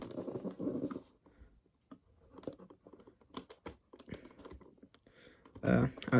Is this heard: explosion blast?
no